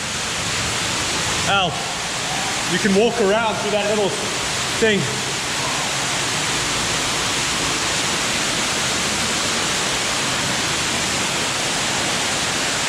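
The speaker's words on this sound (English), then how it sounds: "There's a waterfall all the way up there." A waterfall inside a Yorkshire Dales cave roars as a steady, broad rush of falling water, loud and unbroken throughout, with someone speaking briefly over it early on.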